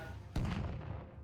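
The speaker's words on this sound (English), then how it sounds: "I can hear lots of fireworks." A single deep, booming blast, like gunfire or a firework in the battle game TABS, hits suddenly and rumbles away, fairly quiet, with no talking.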